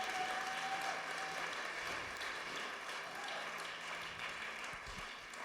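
A church congregation applauds, a steady wash of many hands clapping that fills the room from a moderate distance and holds evenly before tapering slightly, with no clear speech.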